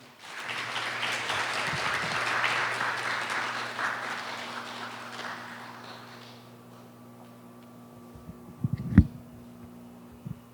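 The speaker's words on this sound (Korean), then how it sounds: "큰 박수 부탁드리겠습니다" An audience at a lecture in a hall claps for several seconds, the applause swelling then fading away, followed by a low hum and a few knocks.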